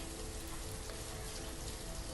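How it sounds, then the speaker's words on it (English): Ambient rain in the village-building game Banished, a steady dense patter of raindrops falling on surfaces, soft and even throughout with no voices. "The ambient sounds are amazing. The frogs, the rain, everything is really good."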